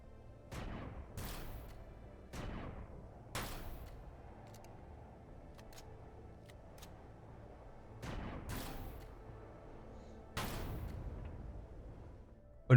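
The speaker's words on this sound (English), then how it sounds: "He was definitely firing up my ship, wasn't he?" Enemy weapons fire on a ship in the space game Empyrion Galactic Survival, heard as several separate booming shots spaced a second or more apart, fairly distant and quiet, with no talk.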